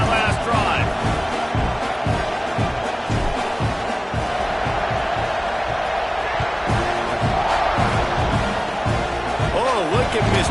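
A college football video game stadium crowd roars without letup, Texas A&M playing Texas, a dense wash of cheering that holds steady at high volume under commentary that runs throughout.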